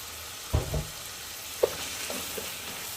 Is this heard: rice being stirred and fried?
yes